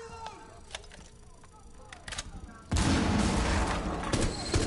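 A frag grenade goes off in Rainbow Six Siege, a sudden loud blast that fills the second half with a sustained roar after quieter scattered sounds and a shouted voice.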